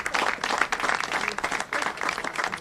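Dense applause from an audience at a NJ Transit engineer trainee graduation event, steady and fairly loud throughout with many overlapping claps.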